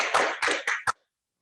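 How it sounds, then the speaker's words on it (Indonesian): Brief scattered applause for Pak Kasyanto at an HUT BC ke-38 anniversary celebration, four short bursts of clapping tapering off into silence. "Tepuk tangan yang paling meriah buat Pak Kasyanto dong"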